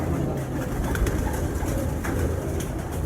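Steady low cooing of a cross-bred flying pigeon close by, continuous throughout against a dense background hum of outdoor noise.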